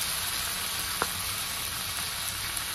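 Tomatoes sauté in hot oil with green peas, giving a quiet, steady sizzle and hiss that runs throughout, with one faint utensil tap and no voices.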